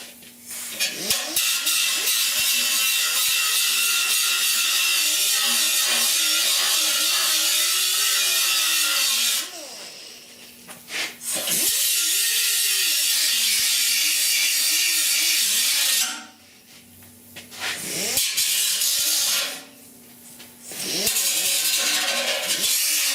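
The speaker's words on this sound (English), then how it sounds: "I'm going to file that edge to get rid of that ragged edge" A hand file rasps in long, loud back-and-forth strokes along the ragged edge of a steel patch panel on a 1969 C10 core support, broken by two short pauses.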